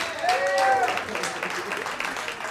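A comedy club audience claps and whoops for a comedian just off stage, with a whistle or two cutting through a moderately loud, slowly thinning wave of applause.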